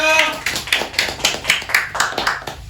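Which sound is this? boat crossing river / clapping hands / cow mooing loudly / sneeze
clapping hands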